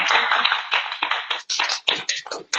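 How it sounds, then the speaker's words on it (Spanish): Congregation applauding in a church service, a dense burst of clapping with uneven gaps, fairly loud and close. "Un aplauso al Señor."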